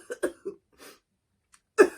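A storyteller's voice imitates a giraffe coughing, a few short dry coughs in quick succession, a brief pause, then one louder cough, close and clear.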